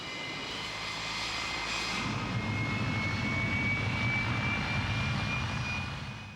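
F-105 fighter bomber jet from the Vietnam War era, a steady loud jet engine roar with a high whine slowly sliding in pitch, sustained throughout without talk.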